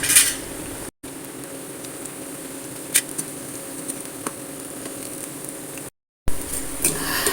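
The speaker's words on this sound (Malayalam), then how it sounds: "നമുക്ക് ചൂടായ ഓയിലേക്ക് ഇതൊന്ന് ബ്രെഡിൻ്റെ പീസസ് ഒന്ന് വറുത്തെടുക്കാം" Bread pieces fry in hot oil in a pan, giving a steady close sizzle with faint clinks of utensils on cookware, broken by two brief gaps.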